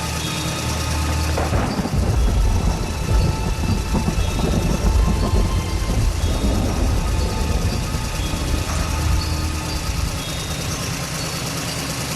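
Heavy rain and thunder in an animated cartoon: a loud, dense roar of downpour with low rumbling thunder swelling through, continuous and close without any speech.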